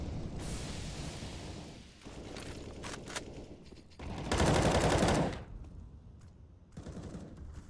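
Automatic AK rifle fire crackles through a Counter-Strike match between Team Liquid and Bad News Bears, with dense bursts and footsteps mixed under a game mix, peaking in a loud sustained volley near the middle.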